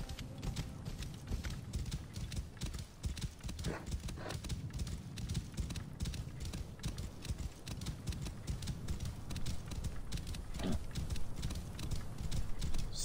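Horse hooves clip-clop in Assassin's Creed Origins, a steady rhythmic trot of close, distinct hoof strikes continuing throughout, with a brief whinny-like tone and faint game ambience underneath.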